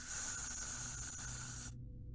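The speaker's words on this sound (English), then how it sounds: "You've marked it with spray paint." A spray paint can hisses in a continuous, fairly quiet burst in a video game, then stops abruptly, leaving near silence.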